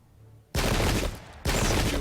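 Two loud, close volleys of massed musket fire crack out in quick succession on an English Civil War battlefield in the video game Pike and Shot, each a dense burst of overlapping shots.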